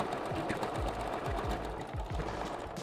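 A sewing machine stitching a wig closure runs in quick repeated bursts of rapid mechanical thumping, fairly close and steady, with no talk over it.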